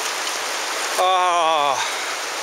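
Rushing river water swirls and splashes steadily as someone wades across a deepening sandy stretch in Zion Narrows, with a brief voiced exclamation midway.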